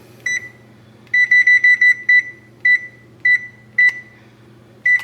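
Oven beeping while being set to preheat to 400, with a single short electronic beep, then a rapid run of identical beeps and several more spaced beeps, loud and close against a low background hum.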